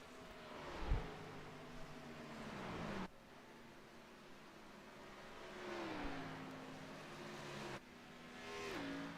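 Race cars on the final lap at Dover in a racing video game, engines roaring and shifting pitch as they pass, with repeated rising and falling whines separated by abrupt cuts.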